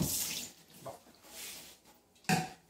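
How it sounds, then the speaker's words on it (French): A recycled plastic pot being rinsed with water in a kitchen, heard as brief splashes and gushes separated by quiet gaps, with a sharper splash near the end. "On le rince bien comme il faut."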